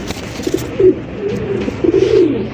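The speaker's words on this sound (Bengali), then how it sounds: "এখানে রয়েছে চমৎকার একটা লাহোরি কবুতরের কালেকশনে" Lahori pigeons in a fancy pigeon collection coo nearby, a few soft, rolling coos coming one after another, loud and close with no talk.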